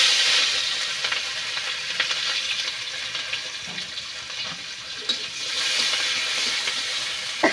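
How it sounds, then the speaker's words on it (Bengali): Cauliflower frying in a pan makes a continuous, fairly loud, close sizzling hiss with faint stirring scrapes, unbroken for several seconds and with no talking. "ফুলকপি ভাজি।"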